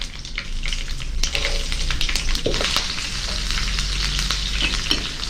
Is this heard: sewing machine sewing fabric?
no